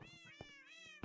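Several cats meowing in the game Minecraft, a run of clear, close meows in quick succession with a brief thump at the end.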